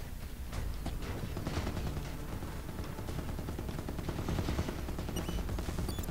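Rapid automatic gunfire rattles almost nonstop in a Halo 5 Minotaur match, bursts overlapping from several weapons at moderate distance in a fierce exchange of fire between players and enemies.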